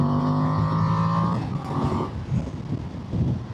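Voge DS800X Rally motorcycle engine holding a steady drone, then its pitch drops and climbs again through a gear change, loud and close, with no voice over it.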